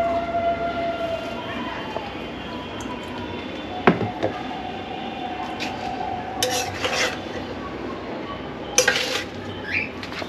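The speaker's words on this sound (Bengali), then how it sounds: "এবার আমি রাইসটা দিচ্ছি ধীরে ধীরে এর মধ্যে" Rice tipped gradually into a pan of fried vegetables for Bengali-style fried rice, with close scraping and metallic clanks of a spatula against the pan and sharp knocks around four and nine seconds.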